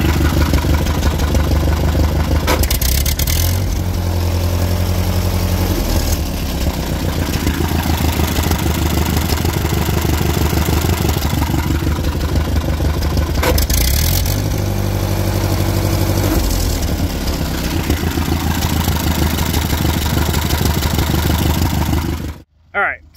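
A Ford N series tractor engine idles steadily after a carburetor adjustment, a loud, close, continuous low rumble with a couple of brief throttle surges, then cutting off abruptly at the end.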